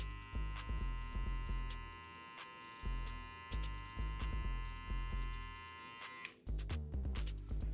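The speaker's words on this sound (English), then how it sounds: "We'll follow it up now by using my shaver just to give him a more skin tight taper." An electric shaver works close against the head during a low taper barber haircut, its buzzing hum pulsing in short repeated strokes as it moves over the skin, with a brief click near the end.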